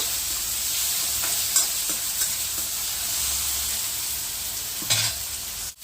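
Tomatoes and curry leaves fry in a hot pan with a steady close sizzle, broken by a few stirring scrapes and clinks.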